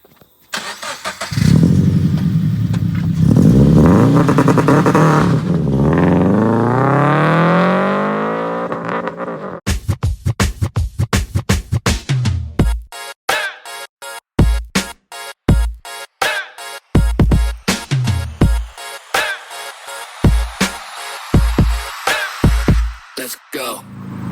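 A 2012 Toyota GT86 engine idles and revs loudly, rising and falling in pitch, then drives off with sharp repeated bursts and gear-change pulses, close to the car.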